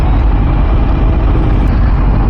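Dense road traffic rumbles loud and steady throughout, a close, continuous wash of cars and heavier vehicles with no clear individual passes.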